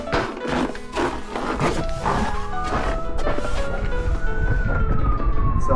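A siren wails nearby, its rising and falling tone sweeping up then slowly gliding down, following some knocking and clattering at the start, with little talk.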